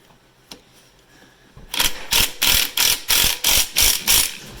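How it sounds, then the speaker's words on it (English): After a quiet start, an impact wrench tightens a motor mount bolt on a 1994 Kawasaki Bayou KLF 220 ATV with a rapid series of about eight loud, evenly spaced hammering bursts, close by. "let me grab my impact and see if we can get this upper one tightened"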